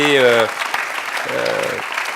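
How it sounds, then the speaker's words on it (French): Conference audience applauding during a plenary session at a forum, a steady wash of clapping heard under a speaker's voice at the start and again briefly in the middle. "j'aimerais qu'on vous applaudisse à nouveau"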